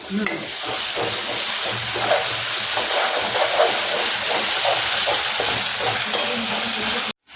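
Ginger garlic paste sizzles loudly and steadily in a hot pan while being stirred, a dense continuous crackle with scraping that cuts off abruptly near the end.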